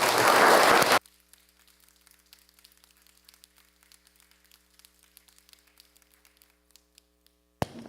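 Applause fills the Senate chamber for about a second, then stops abruptly, leaving a quiet room with scattered faint taps and one sharp knock near the end.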